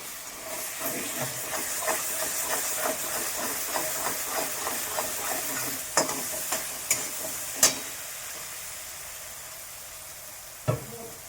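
Masala paste for fish curry roasting in a pan, a soft steady sizzle and hiss with rhythmic stirring scrapes and a few sharper clinks of the utensil; faint, no talking.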